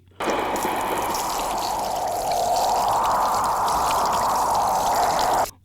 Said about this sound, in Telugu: వర్షం కురిపించింది.